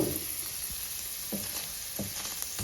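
Onions fry with vinegar in a pan, giving a lively close-up sizzle broken by a few soft knocks and scrapes from stirring, with no talk.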